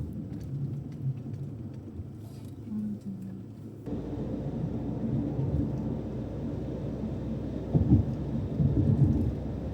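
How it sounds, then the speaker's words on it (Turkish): Steady rain with low rumbling thunder in Hungary on the road toward Debrecen, a continuous wash of rainfall with a stronger surge and louder rumble near the end; no talking. "Macaristan'da bizi yağmur karşıladı."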